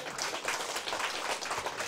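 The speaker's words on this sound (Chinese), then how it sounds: "来，掌声鼓励一下。" Audience applause at a seminar session, greeting a 76-year-old woman; dense, steady clapping fills the whole short stretch at moderate volume, with no voices.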